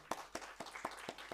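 A handful of hands clap slowly and unevenly at a conference as a lecturer is welcomed, about six sharp, spaced claps from a small, fairly quiet audience.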